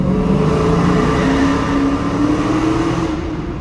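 A 700-horsepower Dodge Challenger Hellcat on fresh tires accelerates through a tunnel, its engine a loud, continuous, close roar whose pitch climbs steadily throughout.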